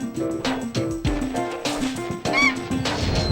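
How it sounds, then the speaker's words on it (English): A bird sound effect in a Spyro 2: Ripto's Rage video game cutscene gives a rapid series of honking, quacking calls like a goose or duck, loud and continuous over cartoonish music. "I think that's the wrong sound effect for the bird"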